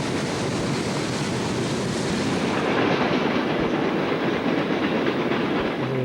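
Freight train rolling steadily past up close, with a scale test car among its cars, giving a loud continuous rumble and rushing wheel noise with faint clickety-clack.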